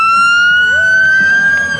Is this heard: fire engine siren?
yes